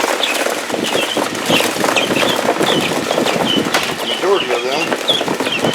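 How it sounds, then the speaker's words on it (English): Guinea fowl cluck and call while being moved, with bursts of chirping and squawking, occasional wing flaps, and a person talking close by. "my two guineas have been raised to the point of being transferred"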